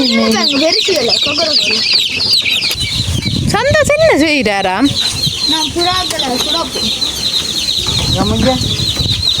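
Chickens cluck and squawk close by, with a rooster-like call and wing flapping, while a person talks over them.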